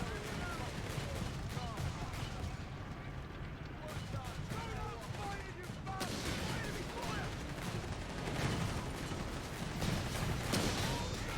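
Gunfire in a Company of Heroes 3 battle, British commandos under fire: dense, continuous crackle of shots and bursts over rumbling battle noise, loud and sustained throughout, with no break.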